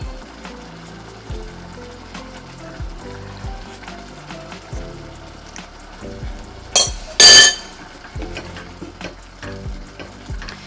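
Tomato chutney sizzling and frying steadily in a pan, with faint stirring scrapes throughout and a brief louder burst of sizzle partway through; no one speaks.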